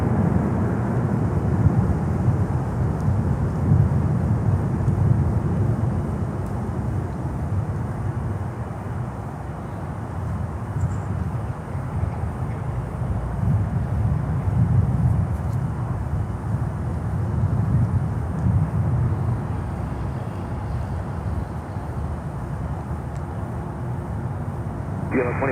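An ITA Airways Airbus A330-200 at Miami airport gives off a steady, broad jet engine roar that swells and eases over nearly half a minute, heard from a moderate distance.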